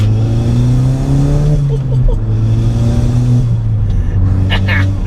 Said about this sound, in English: Make some good pops and bangs this as well.